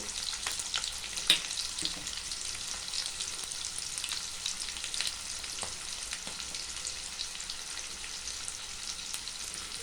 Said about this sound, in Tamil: இப்போது இந்த வெங்காயம் வந்து வதங்கணும்